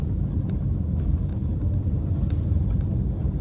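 Road traffic rumbles steadily along Bamburi Utange Road in Mombasa on a quiet Sunday evening, a continuous low drone of passing vehicles heard from close by with no talking.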